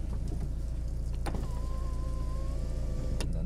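A car's power window motor whirs as the window is lowered during heavy rain, a thin rising hum that starts and stops with faint clicks over a steady low rumble of rain and idling car.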